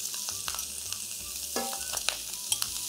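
Squid pieces fry in a hot pan while being stirred, with a steady bright sizzle throughout and soft scraping and stirring knocks from time to time, close and without talk.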